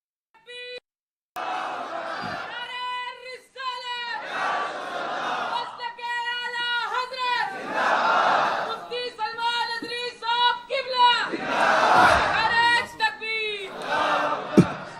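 A large crowd at a religious gathering for Shab-e-Meraj chants slogans in unison, repeated loud rhythmic call-and-response bursts with harmonic voices filling most of the span, swelling and pausing between chants.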